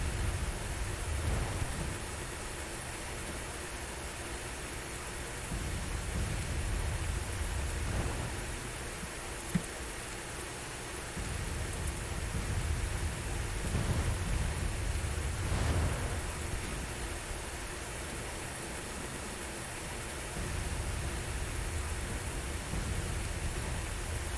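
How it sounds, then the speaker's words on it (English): A video game storm brings steady heavy rain and a broad rushing wash of noise, swelling and easing, with low rumbles of thunder rolling underneath; no one speaks. "Storm just keeps getting worse and worse."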